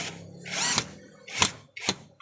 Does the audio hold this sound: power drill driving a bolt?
yes